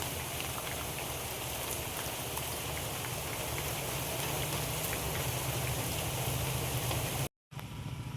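Steady, dense rain falling and pattering on surfaces, constant and fairly loud, cutting out briefly near the end.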